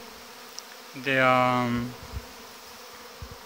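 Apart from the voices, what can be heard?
young honeybees flying at hive entrance in August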